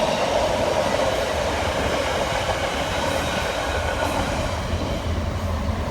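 A Marylebone passenger train arrives at a platform at Leamington, a loud continuous rumble of wheels and carriages rolling close by with a steady hum and faint wheel noise throughout.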